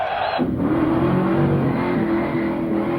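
A car at a Summernats burnout competition holds a sustained high rev, its loud engine roar droning steadily after a brief higher-pitched start, with no voices.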